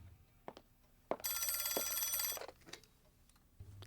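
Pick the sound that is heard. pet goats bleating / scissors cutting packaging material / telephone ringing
telephone ringing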